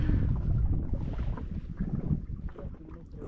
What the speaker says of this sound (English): And then this wind is blowing.